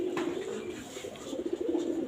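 A pigeon cooing nearby, soft repeated throaty coos over a quiet background, brief and alone without talk.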